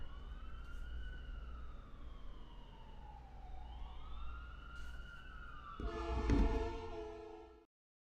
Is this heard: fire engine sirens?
yes